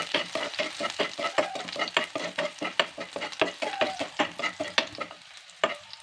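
Garlic fries in a pan while it is stirred, giving a soft sizzle under a quick, regular scraping and tapping rhythm that slows near the end.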